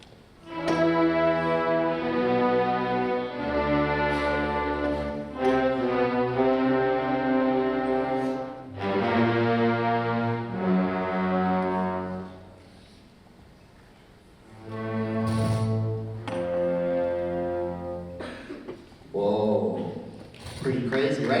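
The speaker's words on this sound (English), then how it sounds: "Let's hear what the Sultan's theme sounds like." An orchestra plays the stern Sultan's theme from Scheherazade, loud sustained brass and strings in heavy phrases separated by brief pauses, with quieter woodwind passages between.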